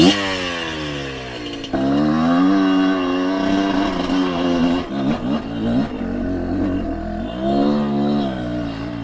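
A 2021 Kayo KT250 two-stroke dirt bike engine fires up and revs outdoors, close and loud, its buzzing pitch rising and falling through repeated throttle blips with no talking.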